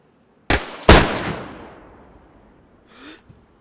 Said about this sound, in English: some semi-auto gun.